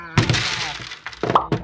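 A pitbull-shaped piggy bank is smashed open, giving a loud close crack and crunching break followed by rattling fragments and a couple more knocks, with brief voices mixed in.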